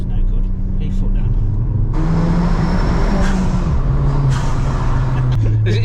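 A hybrid turbocharged Ford Fiesta ST accelerating hard, heard from inside the car as a loud, close engine drone that climbs in pitch through several gear changes, with a burst of turbo and intake rush mixed in.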